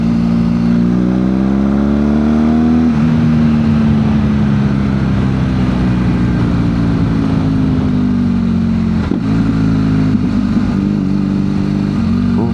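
A BMW GS Adventure motorcycle with exhaust baffles removed revs loudly and continuously, its engine note climbing and falling through steady acceleration, close and dominant throughout with no talk.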